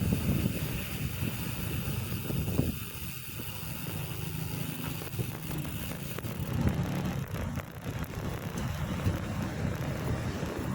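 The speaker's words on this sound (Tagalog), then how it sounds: "Hangin." Wind buffets a microphone in uneven gusts, a rough low rumble that swells and fades over a faint distant engine drone.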